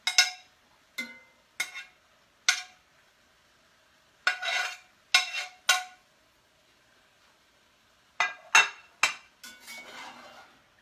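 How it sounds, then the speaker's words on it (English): Pieces of beef and their juices going back into a pan: a series of sharp clinks and scrapes of utensil on cookware in clusters, separated by quiet gaps, ending with a softer wet shuffle. "I have all my meat that I'm putting back in the pan, including the juices that have come out."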